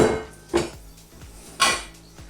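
A large metal pot is handled close by in a kitchen, clanking twice against a hard surface with a few lighter knocks and scrapes in between.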